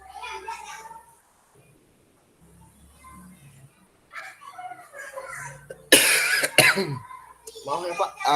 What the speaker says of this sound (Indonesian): Kak lagi batuk soalnya